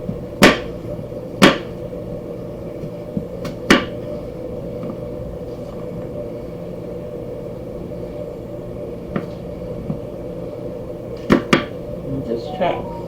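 Knife chopping through pork chops on a cutting board, a handful of sharp separate knocks spread unevenly over a steady low kitchen hum.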